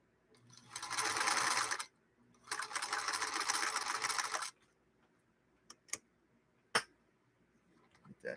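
A sewing machine stitches with bobbin thread in two steady runs of a couple of seconds each, separated by a short pause, followed by a few faint clicks near the end.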